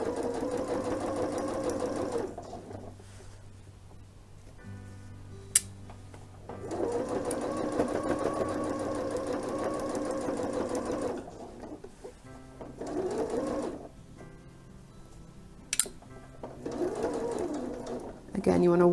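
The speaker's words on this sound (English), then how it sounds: "I'm going to back stitch now. right to the exact spot where I started, and then I'm just going to try and stitch as accurately as I can." A sewing machine back stitching while sewing a single fold welt pocket runs in steady humming bursts of several seconds each, separated by short pauses, with a voice talking in between.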